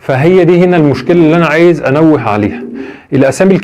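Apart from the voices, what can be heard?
No everyday noise stands out behind the speech.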